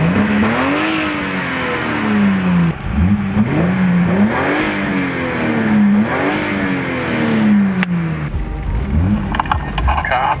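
BMW E30 325iS engine revving as the car drives, repeated rising and falling pulls through the gears with loud, close engine tone, sharp shift breaks and a whooshing blow-off between pulls.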